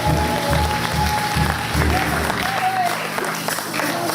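Church congregation at a worship service applauding and cheering together, a dense, sustained wash of clapping and voices with steady loudness throughout.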